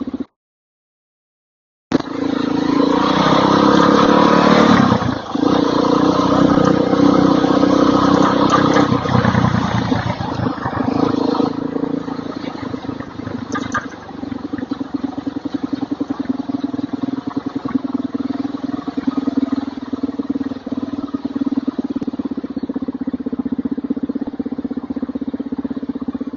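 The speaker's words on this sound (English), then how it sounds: "And now we're about to start hitting the traffic congestion." Steady, loud engine rumble and idling traffic in congested South Philadelphia streets, heard from inside a moving car, with a low constant drone and passing vehicle noise continuing throughout after a brief silent start.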